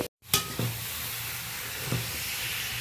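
Fried prawns, ridge gourd and potatoes are stirred gently through a cooked-down masala in a pan, giving a soft, quiet sizzle and hiss with two or three brief scrapes of the spoon.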